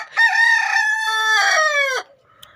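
A rooster among backyard chickens lets out a single loud, close crow lasting about two seconds, followed by a brief faint sound and then quiet.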